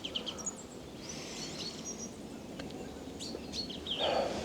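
Small birds chirp around a wildlife photography hide in Ireland, scattered high tweets and brief calls over quiet background ambience.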